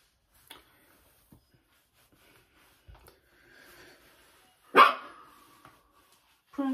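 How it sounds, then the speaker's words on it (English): A pet dog barks indoors with a television playing, giving a few scattered short barks and one loud, close bark near the end. "what are you barking at?"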